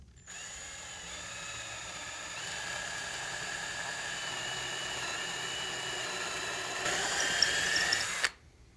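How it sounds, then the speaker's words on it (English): A power drill bores straight through a wooden board while building a contemporary nightstand, a steady whining drone that holds for about eight seconds, rises slightly in pitch near the end as the bit breaks through, then stops. "now we're going to drill all the way through the board"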